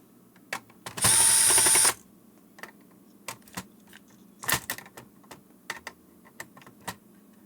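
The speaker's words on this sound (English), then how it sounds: "Now I'm going to open the bottom screws." A screwdriver backs out the bottom screws on a drive-thru intercom unit, giving a loud one-second whirring burst followed by scattered close clicks, taps and small metallic knocks from handling the housing.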